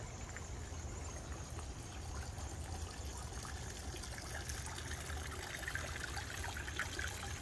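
Water splashes and trickles steadily from a waterfall in a Japanese garden, a continuous soft wash without any voices.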